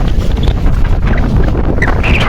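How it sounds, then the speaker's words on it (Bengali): Strong monsoon wind buffets the microphone at Digha sea beach, a loud, continuous roar with gusty rumble, and the sea is audible behind it. "আমি হাওয়াটা দেখাই।"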